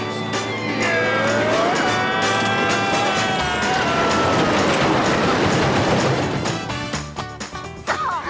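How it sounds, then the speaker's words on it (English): A cartoon car made of cheese falling apart as it drives, with loud rattling, clanking and grinding over a rumbling engine and high squealing tones, ending in scattered clatters. "This car's coming apart."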